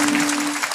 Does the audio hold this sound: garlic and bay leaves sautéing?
no